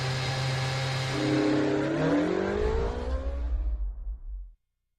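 Ferrari Formula 1 car engine in the F1 2013 racing game on the Singapore grid, a loud sustained drone that rises in pitch as it revs and accelerates, then cuts out abruptly near the end.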